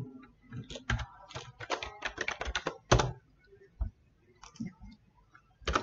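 Fingers tap out quick, uneven bursts of clicks on a computer keyboard while entering data into an Excel spreadsheet, with short gaps between the runs of keystrokes.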